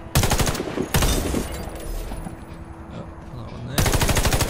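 Rapid automatic gunfire rattles at practice targets in the shooter game Warface, coming as loud, dense bursts separated by a brief pause and a lingering echo.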